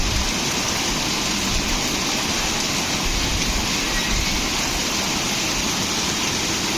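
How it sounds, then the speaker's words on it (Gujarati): Steady, dense rain pours onto a road where water is running off, a continuous close hiss with no voices and no breaks throughout. "તો જો સવારનો વરસાદ ચાલુ છે, રોડ ઉપર પાણી આયલા જાય છે"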